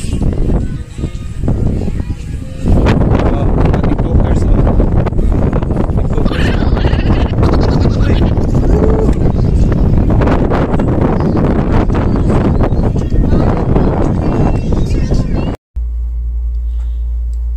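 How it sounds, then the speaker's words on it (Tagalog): Strong wind roars steadily across an open outdoor orchard with apple trees, a loud continuous buffeting rush over the microphone that runs unbroken for most of the clip before cutting off near the end. "grabe ang hangin."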